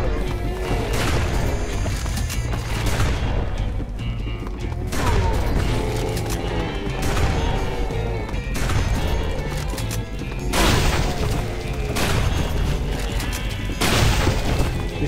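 Shotgun blasts and crashing impacts from the video game All Zombies Must Die, repeated loud booms layered over busy game audio in a continuous dense stream.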